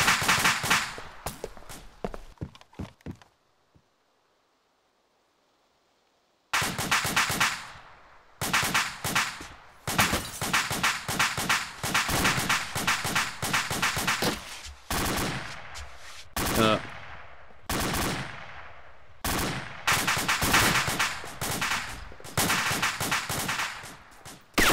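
A firefight in the military game Arma, with dense bursts of rifle and machine-gun fire that break for a few seconds of near silence and then return in rapid, loud volleys.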